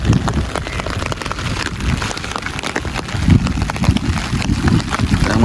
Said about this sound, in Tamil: இப்போது மழை பெய்துட்டான் இருக்கு